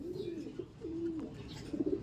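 A racing pigeon arriving from a derby race coos softly in a few low, throaty murmurs against a steady background hum.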